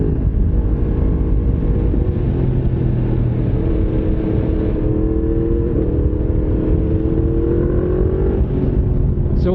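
Yamaha MT-10SP motorcycle engine running at steady revs, a loud, continuous, close-up drone with a slowly rising pitch, heard alone without talk.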